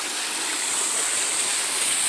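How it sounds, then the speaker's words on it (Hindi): A waterfall gives a steady, dense rushing hiss of falling water, constant and fairly loud throughout with no pauses or voices. "ये रहा झरना"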